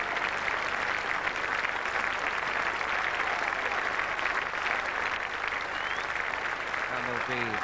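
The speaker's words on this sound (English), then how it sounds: "there'll be big applause for Brian Lara as he makes his way to the middle" Loud, sustained applause from a large crowd at a 1995 England v West Indies Test cricket match at Trent Bridge, dense steady clapping throughout with no pauses.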